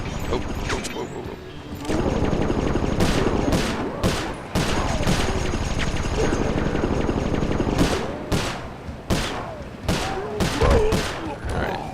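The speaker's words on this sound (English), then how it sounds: "They're shooting at me, bro." Enemy gunfire in the Sly Cooper 4 video game, with repeated sharp bursts of shots cracking over a dense, continuous layer of game noise and music.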